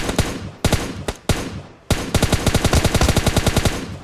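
Rapid bursts of close, loud gunfire in the PUBG Lite battle royale game: a few separate shots and short volleys, then a sustained rhythmic stream of automatic fire with no talking.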